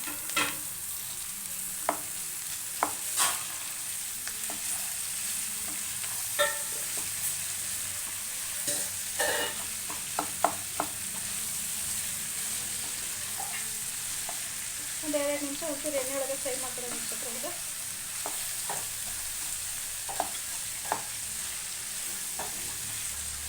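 Chayote and potato pieces fry in a pan for vegetable kurma, with a steady soft sizzle and frequent scraping stirs and clacks of a spoon, close by and without talk.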